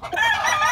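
A Whitfield Claret gamecock rooster crows close and loud in one brief, strong burst.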